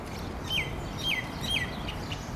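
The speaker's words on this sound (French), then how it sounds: "Les oiseaux chantent." Birds singing in a park on Palm Jumeirah in Dubai: three evenly spaced, bright descending chirps over a steady outdoor background hush.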